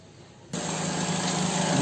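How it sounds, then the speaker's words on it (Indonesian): Nissan Serena C24 engine starts up and settles into a steady idle during radiator flushing, a low, even hum that kicks in abruptly after a brief quiet stretch and stays constant. "Mesin udah kita jalankan"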